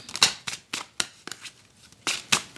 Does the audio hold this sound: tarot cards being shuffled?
yes